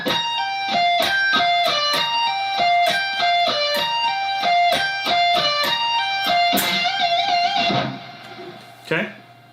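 Electric guitar plays a solo pattern: a quick, evenly picked run of bright single notes, then a sustained bend that rings out and fades, up close with no talking.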